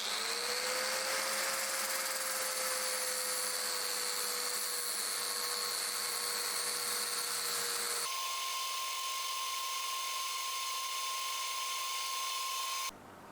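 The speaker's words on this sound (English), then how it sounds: "I'm going to attempt to remove some of it with the angle grinder." Angle grinder working the outer scale off a steel part, a steady loud high whine with a grinding rasp that runs continuously, then cuts to a thinner, cleaner tone before stopping abruptly near the end.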